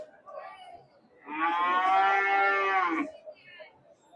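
A Sahiwal breed cow at a rural cattle market gives one long, loud, close moo lasting nearly two seconds, with faint crowd noise before and after.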